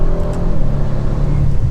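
An ABT Audi RS7-R being driven hard, its engine a steady, loud, close drone that holds through the short stretch with no talk over it.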